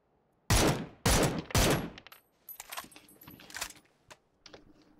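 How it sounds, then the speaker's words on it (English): Three loud, sharp bursts of automatic gunfire in the shooter game PUBG ring out in quick succession, followed by scattered fainter shots, clicks and game effects. "I'm shooting the guy in the white outfit"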